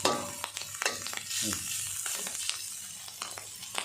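Garlic fries in duck fat rendered in the pan for duck larb, sizzling throughout while a utensil scrapes and stirs in repeated sharp strokes.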